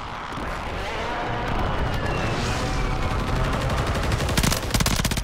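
Dense automatic gunfire and rapid shots from a Call of Duty match, loud and continuous, with sharp repeated bursts toward the end and no voices over it.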